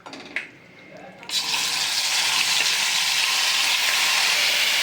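Marinated chicken going into a wok (kadai), a short quiet stretch with a few clatters, then a loud, steady, close sizzle of frying that carries on to the end.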